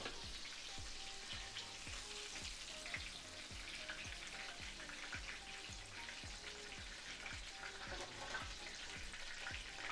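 Sliced green tomatoes fry in hot oil, giving a steady, quiet sizzle with constant crackling and popping throughout, and no talking.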